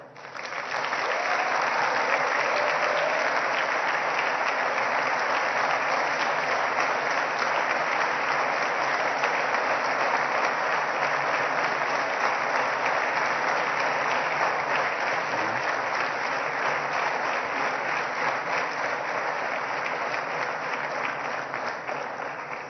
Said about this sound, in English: kindly give them a warm and a resounding round of applause